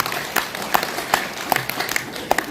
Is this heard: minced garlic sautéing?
no